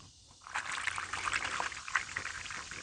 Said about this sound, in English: Put a little squirt of camp soap in there